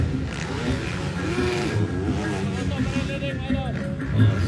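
A loud racing motorcycle engine in the pro lites class revving and whining up and down in pitch close by, with a commentator talking excitedly over it.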